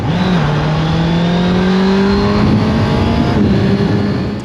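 Honda CBR 650 R motorcycle with E-Clutch riding off, a loud close engine note climbing steadily through the gears as it pulls away, continuous and dominant.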